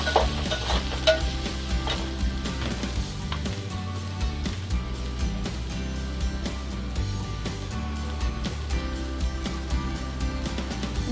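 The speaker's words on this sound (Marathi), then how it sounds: "आणि 1 2 टीस्पून लाल मसाला टाकूया। चांगलं परतून घेऊया।" Red masala being sautéed in a pan for chicken masala, a steady close sizzle with scraping stirs throughout, alone without talk.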